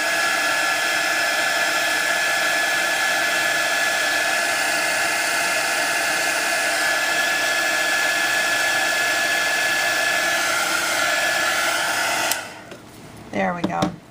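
A heat embossing tool blows a continuous, loud, whirring stream of hot air onto paper leaves, running steadily up close before switching off, followed by faint handling noises.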